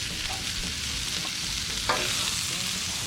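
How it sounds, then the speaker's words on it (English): Shrimp cook in olive oil on a Blackstone griddle with a broad, steady sizzle and soft scraping strokes, one brief sharper tap near the end, close and continuous with no talking. "Time to put the shrimp on the griddle, so I'm gonna get a little olive oil down and get that cooking."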